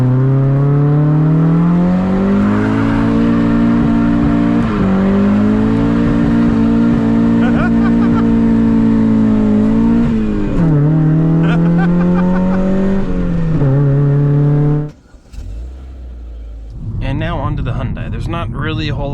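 A Hyundai car with a limited slip differential accelerates hard, its engine droning loudly and climbing in pitch through several gear changes before cutting off abruptly, followed by rougher scraping noise.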